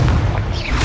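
A Confringo explosion spell cast in Hogwarts Legacy gives one short, loud, low boom with a brief rumbling tail, heard alone with no talk.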